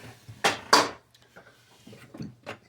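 A utensil stirring bouillon, parsley and salt into a pot of bacon corn chowder gives two loud clanks against the pot, followed by softer scattered scrapes and taps.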